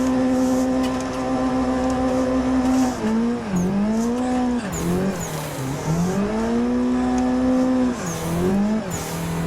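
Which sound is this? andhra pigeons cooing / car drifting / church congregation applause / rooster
car drifting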